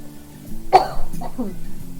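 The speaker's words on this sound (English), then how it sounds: "Sorry, still coughing." A person coughs a few times close up, a sharp burst followed by rougher throaty coughs.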